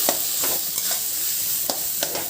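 Chicken mince frying with spices in oil, stirred with a utensil that scrapes the pan in several sharp strokes over a steady close sizzle.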